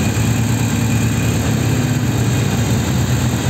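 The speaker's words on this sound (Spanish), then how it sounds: "voy a arrancar la moto" A Harley-Davidson motorcycle engine idling steadily after starting, a loud, close, continuous low rumble with an even throb and no talking over it.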